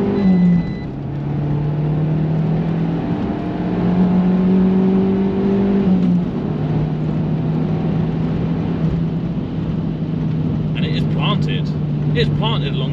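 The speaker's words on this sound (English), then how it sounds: "You'd expect it to really kind of build and spool up, but I've put it into second gear now." An Abarth 500 EsseEsse hatchback pulls hard in second gear along country lanes, its engine a steady, loud drone whose pitch creeps upward, with road and wind noise throughout and faint higher chirps near the end.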